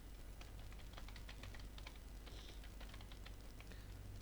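Faint computer keyboard key presses, a series of light plastic clicks tapping at an uneven pace in a quiet room.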